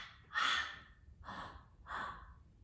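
Ocean breathing exercise: three slow, airy breaths through a constricted throat, the first strongest and the next two softer, close and quiet in a still room.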